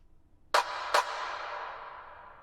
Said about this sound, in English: We also have these little claps that come in with reverb.